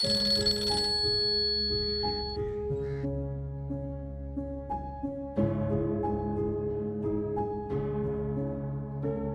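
A telephone rings with a steady electronic tone in the middle of a Pakistani drama scene. A music score plays underneath, and no one speaks over it.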